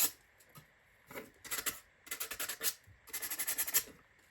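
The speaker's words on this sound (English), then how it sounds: "sanding." Fine sandpaper rasps against a small wooden part from a ROKR cello kit in quick back-and-forth bursts of strokes, close and crisp, with brief pauses between runs.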